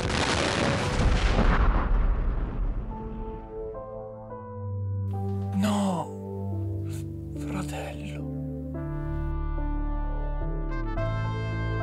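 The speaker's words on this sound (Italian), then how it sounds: "Un'esplosione al negozio di ferramenta, andiamo a controllare." A loud, broad explosion blast in the video game Garry's Mod opens and fades into a rumbling tail, followed by sustained music and layered game effects.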